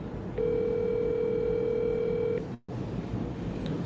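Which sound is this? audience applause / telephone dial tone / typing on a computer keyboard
telephone dial tone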